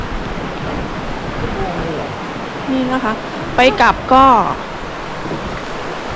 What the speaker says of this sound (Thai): เสียงน้ำตกนะคะ